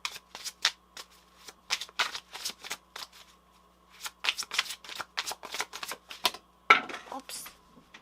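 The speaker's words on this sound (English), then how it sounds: "My shuffling so good." Tarot cards being shuffled in quick riffling bursts, close and crisp, repeating in clusters with short pauses, ending in a louder flurry.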